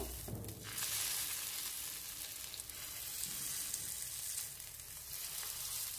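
Soybean and lentil kebabs frying in mustard oil in a frying pan, a steady, close hiss and crackle that holds for several seconds, with faint movement in the pan and no voices.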